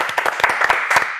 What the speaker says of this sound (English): Can we give them a big round of applause for that?